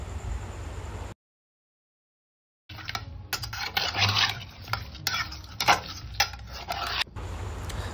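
Live koi fish, scaled and rubbed with turmeric and salt, drop into hot oil in a kadai-style wok and fry with a loud, close, steady sizzle and some utensil clatter, after a brief silent pause.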